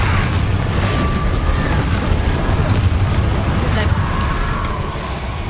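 Confringo fire spell blasts in the game Hogwarts Legacy, cast in rapid succession: a loud, continuous booming roar of explosions with a voice over the top, fading slightly at the end.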